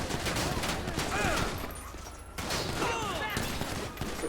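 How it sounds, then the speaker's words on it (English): Several shooters fire in GTA 5 with LSPDFR during a traffic stop: a steady rattle of overlapping shots for a few seconds, fairly close, with a short lull partway through and voices faintly beneath it. "who else is shooting now?"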